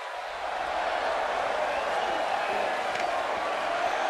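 A sold-out arena crowd in the wrestling game WWE 2K18, at a one-on-one RVD vs Kalisto match from Payback 2017, gives off a steady, dense roar of noise that holds at an even level throughout.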